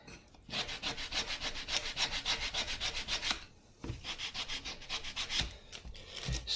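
Wooden internal braces for an instrument are sanded by hand with 100 grit sandpaper. Rapid, even back-and-forth strokes make a close, rhythmic scratchy rasp, with one brief pause partway through before the strokes resume.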